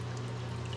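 A cup of brewed coffee is poured into water for a pot roast, giving a short, steady liquid pour with a constant trickling wash throughout.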